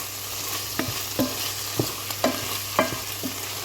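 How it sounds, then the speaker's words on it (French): Cabbage frying in a pan without oil, a steady low sizzle broken by irregular scraping knocks of a utensil stirring, roughly every half second, close and fairly quiet. "Donc je fais frire comme ceci. Puis je vais verser mon chou à l'intérieur."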